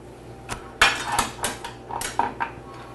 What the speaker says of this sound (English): my ladle and start spooning into my pie